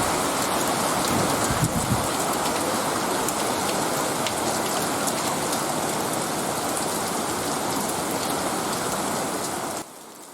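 Heavy rain pours down steadily and loudly in Kerala, a dense unbroken hiss of drops on surfaces that continues throughout with no voices.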